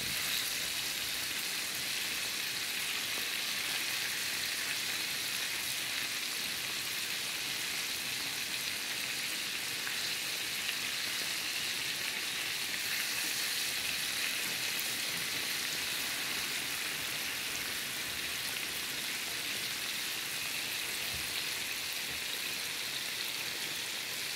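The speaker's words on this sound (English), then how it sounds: "I really love the way this chicken is frying nicely." Chicken breast pieces frying in hot oil for fried chicken: a dense, even sizzle that hisses steadily for the whole stretch, close and constant like rain, with no talking.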